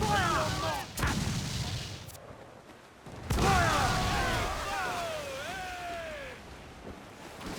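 Ship cannons firing in Assassin's Creed IV Black Flag during a naval battle, with booming blasts over rolling sea and wave noise, sharp impacts near the start and middle, and whistling projectile sounds streaking across.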